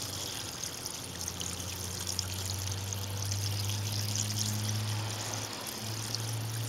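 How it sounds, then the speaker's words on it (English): Liquid poured slowly during gold refining of computer scrap, a steady trickling splash with a low motor hum running beneath it throughout. "Just pour this stuff slow so you don't splash it on yourself."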